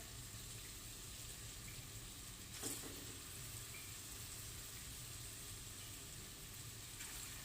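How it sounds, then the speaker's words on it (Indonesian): Cassava lemet fries in a pan with a steady, close hiss of sizzling oil that runs without a break, broken once by a brief utensil clatter partway through. "Digoreng-goreng lagi."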